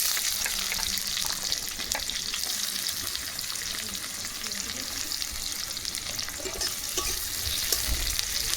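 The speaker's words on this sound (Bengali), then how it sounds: "তেল গরম হয়ে গেছে এবার তেলের মধ্যে দিয়ে দেবো পেঁয়াজ কুচি" Chopped onions fry in hot mustard oil for fish curry, giving a steady, dense crackling sizzle throughout with faint stirring scrapes in the mix.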